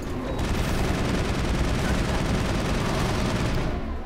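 Mass Effect combat gunfire rattles in a dense, continuous burst of rapid shots and booms that stays loud and fills the whole stretch before stopping abruptly near the end.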